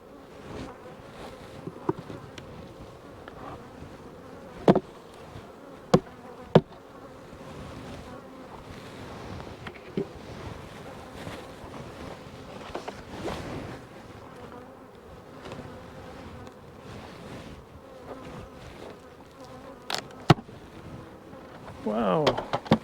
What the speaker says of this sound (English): Wow, quite a few bees left in this one.